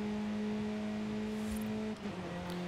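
Car interior in Forza Horizon 5, a steady droning engine hum with strong tonal harmonics, loud and constant with a slight shift in pitch near the end.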